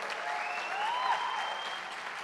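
Applause at a live music session, a sustained burst of clapping from the audience with a faint tonal whistle-like sweep riding over it.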